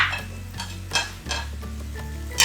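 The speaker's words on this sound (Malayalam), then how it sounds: "ഇനി ഇതെല്ലാം കൂടെ മിക്സ് ചെയ്യാം." Fried chicken being stirred into biryani masala in a pan gives soft scraping spoon strokes and light clinks against the metal, with a faint low sizzle underneath, close and fairly quiet.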